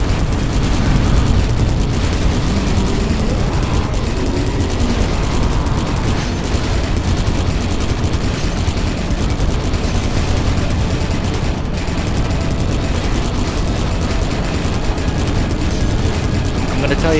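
Warhammer 40,000: Kill Team combat gives a dense, constant wall of rapid gunfire and explosions, loud and unbroken throughout, with a voice speaking over the din.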